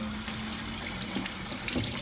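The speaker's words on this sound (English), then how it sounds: "Top up this cold water" A tap runs cold water steadily into a container, a continuous close splashing and hiss with small drips and gurgles, no voices.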